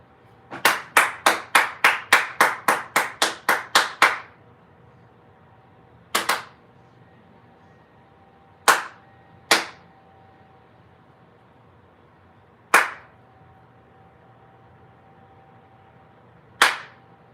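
Hand claps in a room, first a quick run of about a dozen sharp, evenly spaced claps, then single isolated claps every couple of seconds, crisp and close over a faint steady hum.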